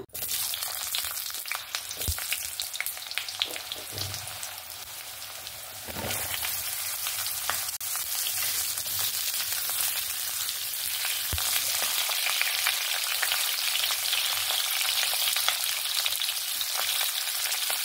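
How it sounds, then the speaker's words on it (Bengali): Potato and pointed gourd frying in hot oil in a wok, a steady, dense sizzle running continuously throughout with occasional stirring scrapes, close and fairly loud, no talking. "এবার আলু আর পটলটা একসঙ্গে ভেজে নেব।"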